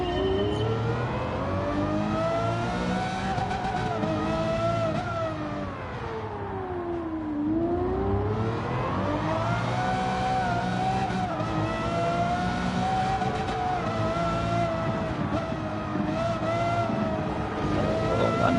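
A Lamborghini Murcielago racing in Gran Turismo 7, its engine howling continuously as it climbs and drops through gears, loud and steady, with tire noise beneath and no talk.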